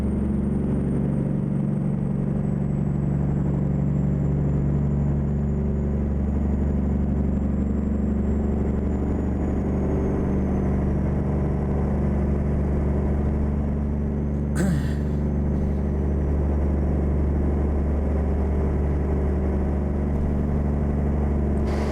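A Mack R700 long-nose truck in American Truck Simulator runs with a steady, loud engine rumble throughout, a continuous low drone with one brief sharp knock partway through.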